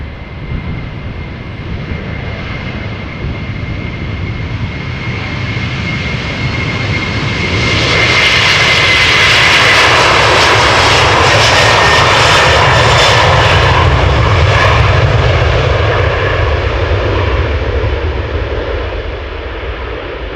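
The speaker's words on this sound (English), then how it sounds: "after all those heavy A330 departures. They sure are noisy." A KLM Airbus A330-300 jet bound for Kigali roars on departure, a loud, sustained engine rumble that swells to a broad, hissing peak midway and then slowly fades, with no voices.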